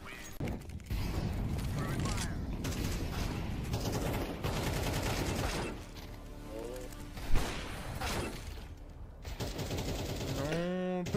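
Rapid bursts of Counter-Strike gunfire, rattling automatic shots and sharp cracks repeating across the stretch, with faint talk underneath.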